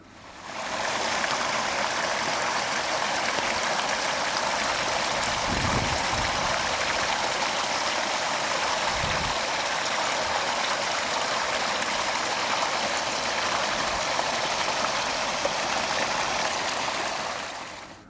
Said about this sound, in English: The stream passes behind Goundry Drive and collects in a pond near the end of the street